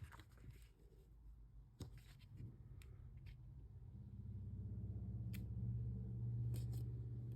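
Scissors snip through excess cardstock at a crafting table, a couple of sharp cuts standing out over a steady low rumble that swells toward the end.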